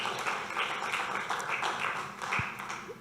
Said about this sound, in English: How about a round of applause for what we've been able to do for a long time.